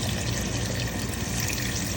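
Water is poured into a pot of sautéed chicken for tinola, making a steady, close, hissing rush of liquid that runs unbroken and fairly loud throughout, with no talk.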